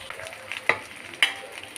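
Coconut curry paste with turmeric is stirred in a hot pan, giving soft scraping strokes over a faint sizzle, with a couple of sharper spoon clinks, close and brief.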